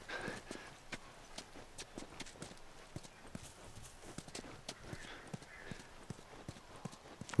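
Rhythmic clip-clop of horse hooves from riding in the video game The Last of Us, steady and moderately close, with a faint background hum and no talking.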